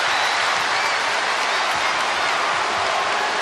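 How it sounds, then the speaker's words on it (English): A home crowd at a Serbia basketball game against Belgium roars and applauds in a dense, continuous wall of sound throughout. "The home fans raising the roof for the hosts."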